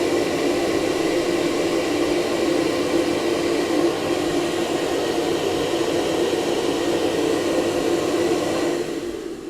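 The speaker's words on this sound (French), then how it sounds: "Et là, du coup, il va se vider automatiquement dans la station." A robot vacuum empties itself into its docking station with a loud, steady broadband whoosh of suction that holds evenly for about nine seconds, then cuts off abruptly at the end; no voices over it.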